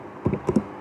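A few quick keystrokes on a computer keyboard, close and fairly soft, tapped in two brief pairs with no talking.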